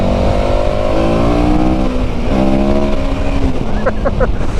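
A KTM motorcycle engine revs up hard in third gear while overtaking, its pitch climbing steadily before briefly dropping and rising again, loud with wind noise.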